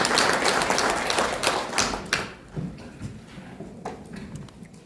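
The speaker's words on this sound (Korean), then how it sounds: "여러분, 큰 박수 부탁드립니다." An audience at a newspaper's 20th anniversary ceremony claps steadily, the applause loud at first and then thinning into scattered claps as it fades.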